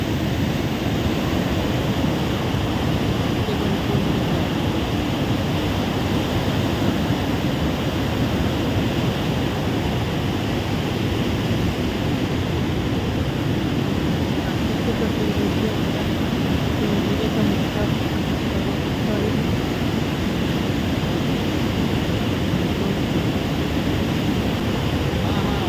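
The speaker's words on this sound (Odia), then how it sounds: "ଖସୁଛି ନା ପାଣିଟା ଉପରୁ" Bhimkund waterfall in Kendujhar, Odisha, with water falling from above in a continuous broad roar, steady and unbroken, heard up close at fairly high level.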